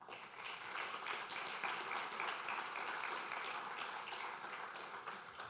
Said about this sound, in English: can we get another round of applause for everybody?